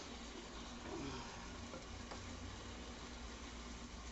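Pork steaks or egg-roll filling frying in a pan, a steady close sizzle and crackle running continuously without talk.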